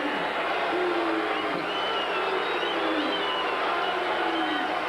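A basketball arena crowd at a 1986 NCAA Tournament second-round game between the UNC Tar Heels and UAB Blazers voices its disapproval as a steady, sustained roar that fills the space evenly without breaks.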